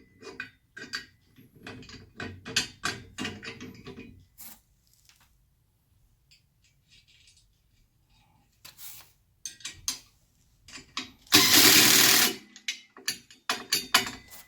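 A power tool drives a fastener into a trash cart carrier's lift arm, heard as short mechanical clicks and whirring bursts, then a loud sustained whirr near the end, with quiet gaps between.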